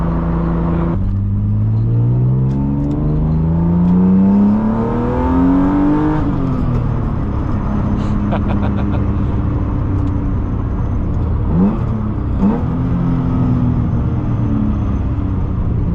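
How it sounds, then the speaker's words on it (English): A BMW E36 M3 engine with manual swap revs up and down repeatedly with a loud, raspy exhaust, close by, the pitch climbing and falling between blips. "that exhaust is very like track car reminiscent"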